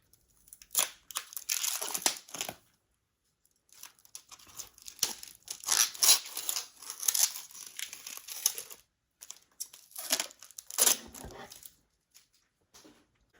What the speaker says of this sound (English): Let's take this plastic off.